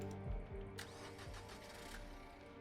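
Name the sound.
car engine starting as a car is stolen, from a video game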